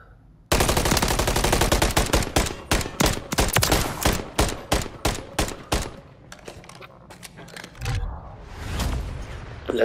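Rapid automatic gunfire in Call of Duty MW3, a loud burst of many close shots that breaks into spaced single and short volleys, then fades into quieter game noise near the end.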